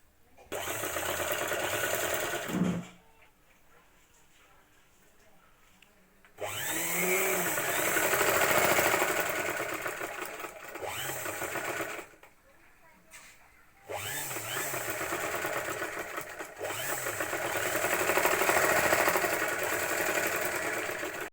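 A sewing machine stitches a prince-cut blouse in long steady runs, loud and near, broken by brief pauses between seams.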